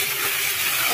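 Ginger-garlic spice mix frying in a pan for a dahi prawn dish, one second of dense, even hissing sizzle close up.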